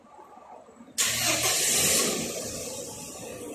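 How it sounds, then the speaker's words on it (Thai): A Mercedes-Benz W124 starting by remote keyless push start: quiet ambience, then a sudden engine catch and roar that settles into a steady idle, heard close and without talk. "ตอนนี้รถก็สตาร์ทเครื่องเป็นที่เรียบร้อยแล้วนะคะ"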